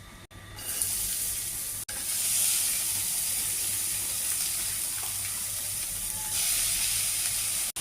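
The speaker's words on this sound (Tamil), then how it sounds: "இப்போ வந்துட்டு நான் சாட்டே பண்ணிகிட்ருக்கேன்" Soya chunks, corn and pasta with masala sautéed in a pan, a loud, continuous, close-up sizzle that hisses steadily with no talking.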